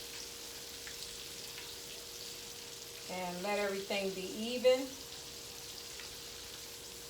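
Soft, steady frying hiss from seafood in a pan under a quiet voice that speaks briefly midway.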